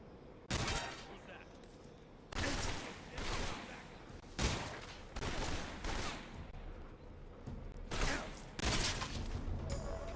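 Loud unsuppressed gunfire in the video game Arc Raiders, coming as a series of sharp bursts and volleys separated by short gaps, with a steady background rumble between the shots.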